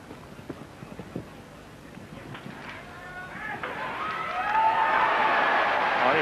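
Rhythmic hooves of a show jumping horse pounding over a distant crowd at the 1992 Barcelona Olympics, the crowd noise rising and swelling toward the end.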